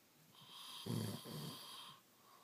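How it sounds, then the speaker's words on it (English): A man snores once up close, a single rough, rattling breath of about a second set against a quiet, faintly humming room. "No, you're snoring."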